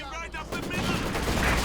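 Sustained machine gun fire in the World War II strategy game Company of Heroes 2, a dense rattling fusillade that grows louder and stays steady, with distant battle noise layered in.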